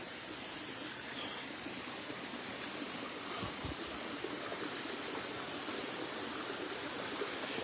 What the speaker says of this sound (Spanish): Y el increíble sonido del agua.